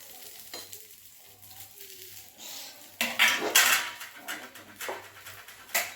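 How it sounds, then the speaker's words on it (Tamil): Kara paniyaram cooks on a nonstick tawa with a low sizzle, then louder clinks and scrapes of a metal utensil against the pan, close and intermittent, without talk. "நான்ஸ்டிக் தவாவுக்கு சும்மா லைட்டாக ஊற்றினாலே போதும்."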